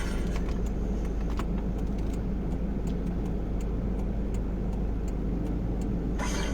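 A car maneuvering into a parking spot, its steady engine rumble continuous and fairly loud throughout with faint clicking ticks on top, no talk.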